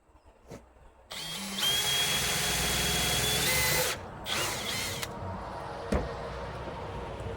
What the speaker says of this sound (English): We'll drill our smaller hole like so.